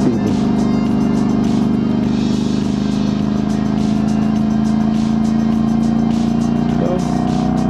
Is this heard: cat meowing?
no